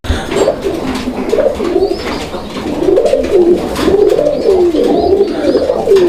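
A pair of fancy Bangladeshi pigeons coo repeatedly close up, rhythmic throaty rolling calls over soft rustling, with faint background chirps.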